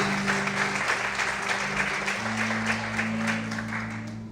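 Church congregation applauding together, a dense steady patter of clapping filling the space at a moderate distance, with sustained low organ or keyboard tones underneath throughout.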